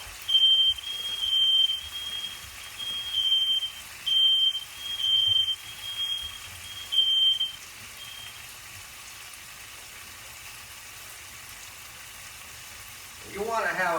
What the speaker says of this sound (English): If you got a really irritating smoke detector like I do, well, that's just too bad